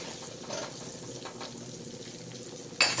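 Garlic and tomatoes frying in a pan for a pea and eggplant curry, with a steady low sizzle, soft scraping stirs, and a sharper clatter near the end.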